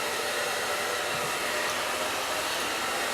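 A hair dryer set to hot blows steadily while blow-drying hair: a constant, even whooshing roar of airflow, close and unbroken for the whole stretch, with no talking.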